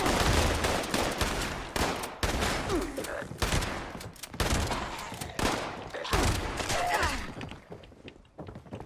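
Rapid bursts of gunfire and overlapping shots in the video game Fallout 76, dense and loud, firing in repeated volleys with brief gaps over several seconds and no voice on top.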